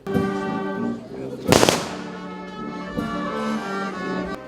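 Military salute gun volley fired at a Victory Day rally in Chernivtsi, Ukraine, one sharp loud crack over sustained band music and ambient crowd sound.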